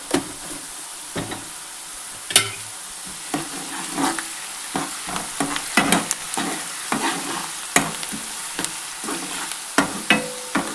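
Salted potatoes fry in a pan for sago khichdi, a loud close sizzle broken by frequent scraping stir strokes and knocks of the spoon against the pan.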